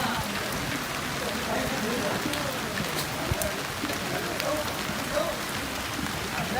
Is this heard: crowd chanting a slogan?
no